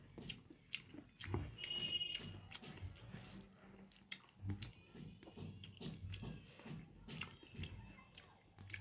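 Someone eats hot homemade spiced food, soft wet chewing and biting sounds repeating close up over low background noise, with a few faint murmurs.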